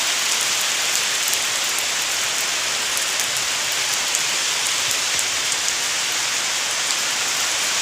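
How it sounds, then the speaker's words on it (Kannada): Heavier rain pours down outdoors in green surroundings, a loud, unbroken wash of drops striking surfaces, dense and even from start to finish with no talking. "ಸ್ವಲ್ಪ ಜೋರಾಗೆ ಬಂತು"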